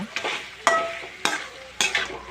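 Chicken sautéing in masala gravy for a chicken curry sizzles in a pan as it is stirred, with three sharp scraping strokes at a steady rhythm over a low frying hiss, close up and with no talking.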